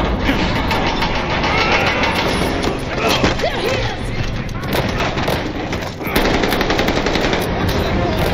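Rapid automatic gunfire from Call of Duty Vanguard rattles almost continuously through the whole stretch, dense and loud, with engine rumble and brief shouted voices mixed underneath.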